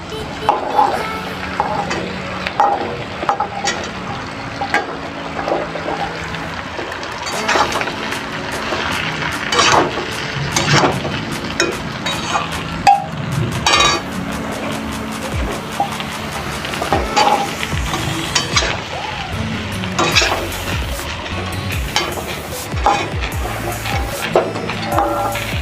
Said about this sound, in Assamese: এতিয়া মই কচুখিনি সিজিব দিলোঁ